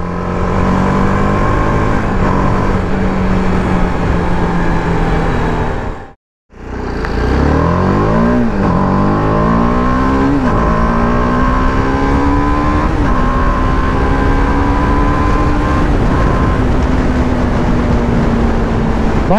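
A TVS Apache RR 310 BS6 motorcycle on a race track, its engine loud and close, revving hard through the gears with rising pitch sweeps, a brief cut in sound, then sustained high-rev acceleration.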